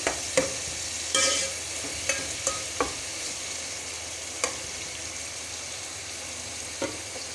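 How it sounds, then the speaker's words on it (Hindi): Green chillies fry in a pan for chicken pulao, a steady low sizzle broken by sharp clicks and scrapes as they are stirred, close and fairly quiet. "ये हरी मिर्चें भी ऐड कर दिया। अब मैं इसको बहुत अच्छी तरीके से भूनूंगी।"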